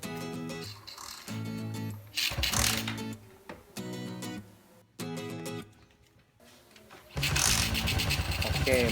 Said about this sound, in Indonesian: kita coba hidupkan mesin